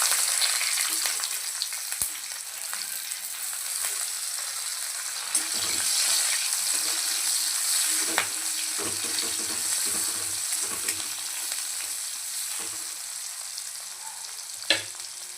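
Cumin, bay leaf, green chilies and a little onion fry in hot oil for butter chicken, a loud steady sizzle with occasional stirring scrapes and clinks, continuous and close, with no talking.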